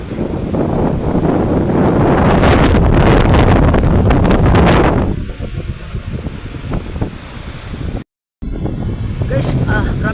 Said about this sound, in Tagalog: grabe kusuga sa hangin